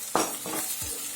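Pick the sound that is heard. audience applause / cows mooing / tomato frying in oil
tomato frying in oil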